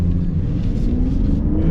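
A 2022 Lexus LC 500h hybrid accelerates hard from a start, its engine giving a loud, deep, continuous rumble whose pitch rises steadily as the car gathers speed.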